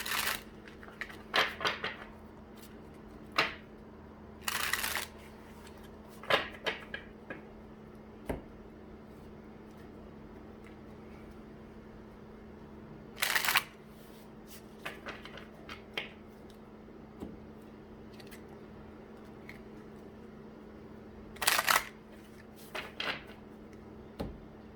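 Tarot cards being shuffled by hand: soft, scattered riffles and slaps in brief bursts spread over a long, quiet stretch, faint and close, with no talking.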